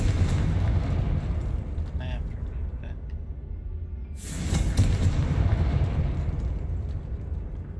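A Confringo fire spell from Hogwarts Legacy bursts with a loud, rumbling blast. It fades into a quieter stretch, then a second heavy explosive roar swells and carries on to the end.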